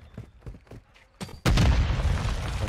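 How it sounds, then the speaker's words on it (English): A few sharp game gunshot pops are followed by a loud, booming grenade explosion in a first-person shooter match, with a roaring rumble that sustains to the end. "I'm about to try to nade A from here"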